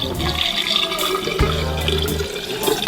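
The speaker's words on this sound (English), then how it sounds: "And then we're gonna add the water." Water is poured into a mix of grated ginger for homemade ginger beer, a steady close splashing and gurgling that runs throughout with no talk.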